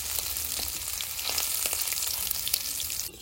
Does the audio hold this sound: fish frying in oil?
yes